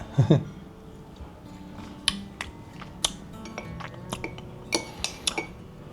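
Small metal teaspoon clinking against a container while scooping homemade sugar-free condensed milk, several light, sharp taps scattered over a few seconds, close and fairly quiet.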